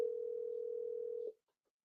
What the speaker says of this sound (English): who phone is that?